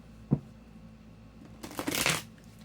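A deck of tarot cards handled close by: a single soft tap, then a brief burst of papery riffling as the cards are shuffled, quiet overall with no speech.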